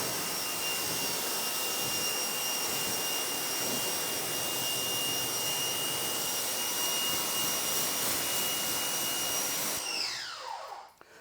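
A close, loud, steady hiss of a water spray rinsing a car, broad and unbroken for about ten seconds before cutting off abruptly into quiet dripping.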